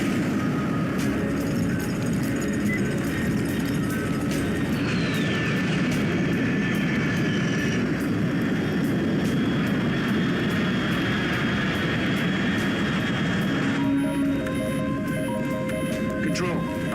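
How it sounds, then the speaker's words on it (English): A steady aircraft engine drones in Metal Gear Solid 3: Snake Eater, with a constant roar and faint shifting whines, while game sound effects and voices are heard over it. "Control, unidentified aircraft detected."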